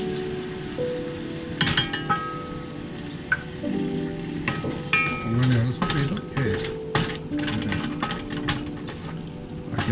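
Sofrito with ham sizzles and crackles in a hot pan while it is stirred, a continuous close frying hiss broken by scraping and knocking sounds.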